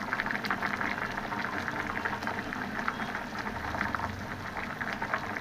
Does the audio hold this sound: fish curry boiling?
yes